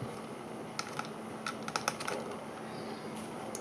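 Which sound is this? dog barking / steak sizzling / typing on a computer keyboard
typing on a computer keyboard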